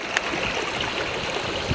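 A creek flowing where it meets a larger creek, with shallow shoals upstream, heard as a close, continuous watery rush and gurgle with a few soft splashes.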